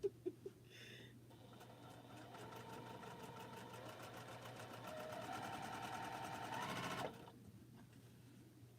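A sewing machine stitches quilt fabric in one steady run of fast, even mechanical chatter. It rises slightly in pace, then stops abruptly after a few clicks at the start.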